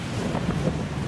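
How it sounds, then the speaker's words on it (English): Hurricane Matthew's winds gust at hurricane force outside an oceanside condo, a dense, steady roar of wind buffeting the microphone with low rumbling surges and no voices. "Winds are gusting to hurricane force now."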